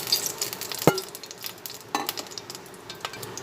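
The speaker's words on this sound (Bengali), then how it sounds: "কড়ার মধ্যে তেল দিয়ে তেল গরম হয়ে গেল তখন কিছু কুচানো পেঁয়াজ দিলাম" Hot oil crackles and sizzles steadily in a wok as chopped onion fries, with a sharp clatter of a utensil near the start and a few softer stirring scrapes.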